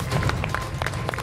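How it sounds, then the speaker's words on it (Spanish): Studio audience applause at a game show final, a dense wash of clapping and crowd noise, moderately loud and fairly distant, with brief voices mixed in. "Fuerte el aplauso"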